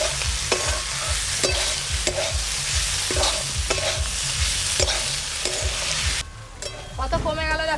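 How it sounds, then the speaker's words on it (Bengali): Ridge gourd being stirred and fried in a wok in a home kitchen, a steady sizzle broken by regular scraping strokes of the spatula, loud and close, ending with a few clinks. "চিচিঙ্গাগুলো এইভাবে কড়ার মধ্যে একটু চালিয়ে দেবো, ভালো করে ভাজা হবে"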